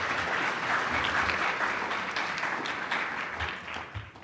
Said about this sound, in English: Please join me in another round of applause for our newest Lett Scholar